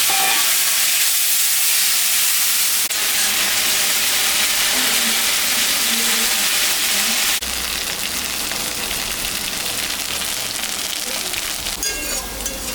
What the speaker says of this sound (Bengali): আমি আলুটা ভাজে নিই।